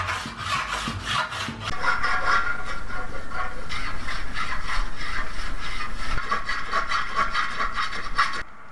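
A chrome bumper from an Aston Martin DB5 is filed by hand with repeated rasping strokes in a steady back-and-forth rhythm, loud and close, with no voices.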